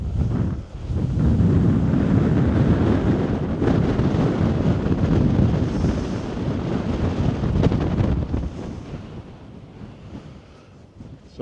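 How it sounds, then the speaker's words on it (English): Strong wind buffeting the microphone on the coast at Achiltibuie overlooking the Summer Isles, a loud, continuous roaring rush that swells and eases for about ten seconds before fading slightly. "despite the wind that's blowing today"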